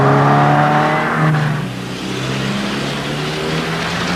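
A car engine revs hard as the car pulls away after a bootleg turn during a US Army evasive driving drill, a loud, close, rising drone that eases into a steadier tone.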